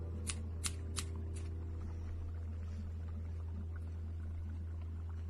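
Scissors trimming the long strands of a black yarn pom-pom, four quick crisp snips close by at the start, then only a low steady hum.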